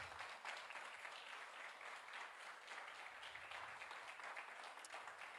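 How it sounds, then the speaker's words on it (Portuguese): A church congregation claps during a Wednesday celebration service, a steady, faint patter of many hands heard at a distance that continues evenly for over five seconds. "Você pode aplaudir mais uma vez ao Senhor?"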